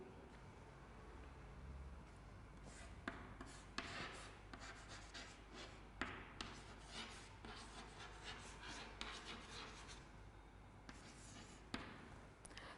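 Notes being written by hand during a history lesson: soft, intermittent scratching strokes with occasional light taps, steady and close, with no talking.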